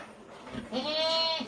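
Young breeding does bleat inside a goat shed on a farm in Kamphaeng Phet, Thailand, with one clear, close, wavering cry rising after soft shuffling sounds.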